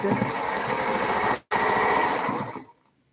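A Singer Featherweight sewing machine runs with a steady, fast mechanical whir. It stops for a split second, resumes, then winds down and falls silent.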